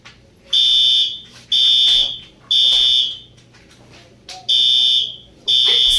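A fire alarm rings in loud, repeated high-pitched blasts, each about a second long with short gaps between them, sounding alone and close by.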